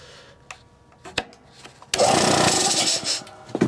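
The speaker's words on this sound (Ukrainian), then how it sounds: "розганяємо масло по компресору два рази і поїхав" A FORTE ZA65/50 air compressor under repair kicks on abruptly after a few knocks and clicks, then runs with a loud, steady broadband roar that holds to the end.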